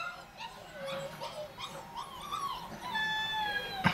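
Puppies about four and a half weeks old whimpering and yipping close by in a series of thin, high cries, with some rustling and background noise.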